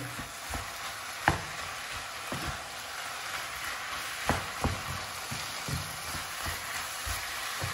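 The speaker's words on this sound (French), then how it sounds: "Je vais bien mélanger l'ensemble." Chicken and potato samosa filling sizzling steadily in a pan while being stirred, with scattered scraping clicks of the utensil against the pan over a continuous frying hiss.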